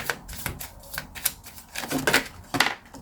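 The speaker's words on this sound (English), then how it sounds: "Let's pull out a few cards, see what comes out." Tarot cards being shuffled by hand: quick papery riffles and soft slaps come in irregular bursts over about three seconds, close and moderately loud, with no talking.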